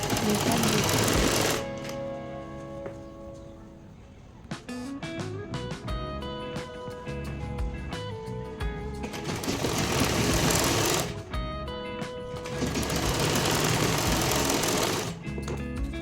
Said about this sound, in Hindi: पहले इस तरीके से आधा इंच पकड़ते हुए हम सिलाई लगानी है और बुकरम को हम उल्टी साइड पर रख के सिलाई लगाएंगे।